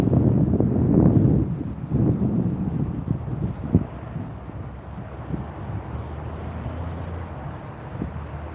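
Gusty wind buffets the microphone at a carp fishing spot, loud rumbling bursts at first that ease into a steadier, fainter rush, with no talking.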